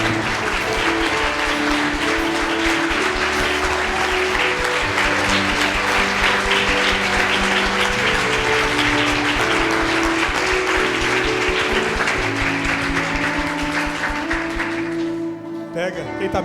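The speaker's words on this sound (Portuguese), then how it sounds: "Aplauda o nome do Senhor Jesus." A church congregation applauds the name of Jesus during a service, a loud continuous wash of clapping under sustained music tones, fading out near the end.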